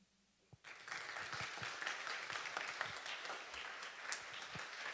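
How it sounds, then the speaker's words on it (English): An audience breaks into sustained applause after a quiet moment, steady clapping from many hands filling the room. "Let's give her a sizzle of applause, ladies and gentlemen."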